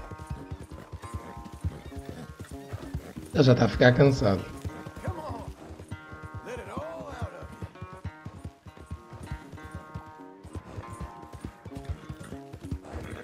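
A horse gallops in the video game Red Dead Redemption 2, giving steady rhythmic hoofbeats with a brief loud flurry and a whinny, under background game music while someone talks.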